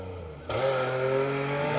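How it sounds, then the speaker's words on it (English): A loud Volkswagen Golf rally car engine idles, then rises sharply into a revving drone with a raspy exhaust tone, close by. "it is a very loud sounding Volkswagen Golf of Steve Hollis and Tim Curry."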